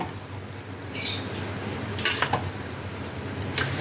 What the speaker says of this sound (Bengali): ঘিটাকেও খিচুড়ির সাথে ভালো করে মিশিয়ে নেব।